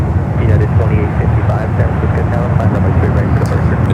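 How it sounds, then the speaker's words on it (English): Boeing 757-200 airliner at San Francisco airport, a continuous broad engine rumble heard under someone talking throughout. "It's a 757"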